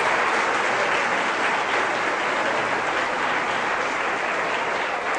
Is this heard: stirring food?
no